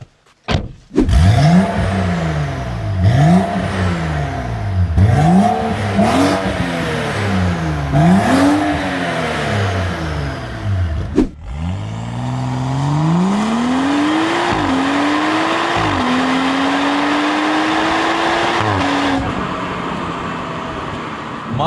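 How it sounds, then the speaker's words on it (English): A loud turbocharged N55 six-cylinder engine in a stage 2 tuned BMW M135i F20 revs hard through several rising gear pulls, each shift dropping the pitch, then a long sustained climb with roaring exhaust. "the N55 engine sounds better"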